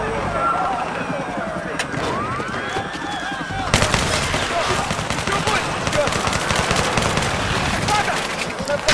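Battlefield 3 gunfire, rapid bursts of automatic fire crackling over the game's background noise, growing denser and louder partway through while players talk.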